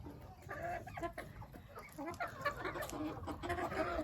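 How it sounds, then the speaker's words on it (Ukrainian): Hens and a rooster cluck and call close by in a poultry coop, a busy, overlapping chatter of short clucks and squawks continuing throughout, fairly quiet overall. "Це наша курочка, що вивелася 12 січня, вже, мабуть, несеться."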